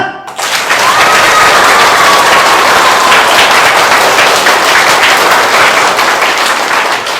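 Loud, sustained applause from a crowd at an Independence Day (15 August) patriotic performance, dense clapping swelling in right after the start and holding strongly to the end.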